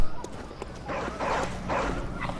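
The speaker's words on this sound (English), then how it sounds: "You hear the dog still going, of course," A dog barks repeatedly in the Bloodborne video game, with several mid-distance bursts over a low, steady game ambience.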